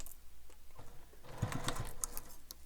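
A sewing machine stitching a fabric wallet under the presser foot, a short burst of quick mechanical whirring and clicking after a quiet start, close and fairly soft.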